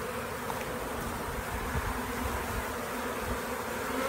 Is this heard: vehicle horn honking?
no